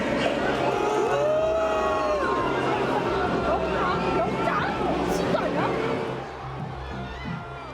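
Home supporters jeer and boo from the stands at Ulsan Munsu World Cup Stadium as Ulsan HD manager Hong Myung-bo is introduced; a dense, sustained crowd roar fills the whole stretch, easing slightly near the end.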